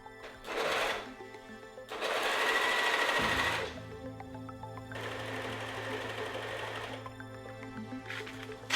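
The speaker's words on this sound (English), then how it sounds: "first finish all the edges with the serger, then fold them over and go over it with a zigzag stitch" A sewing machine stitches fabric edges in several separate bursts of fast, whirring mechanical stitching, close and fairly loud, with short quiet pauses between runs and no talking.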